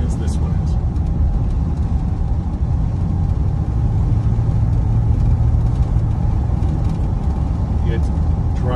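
The engine of a 1972 Ford F-250 truck running steadily while driving, a low droning rumble under constant road noise, loud and continuous throughout, with someone talking over it.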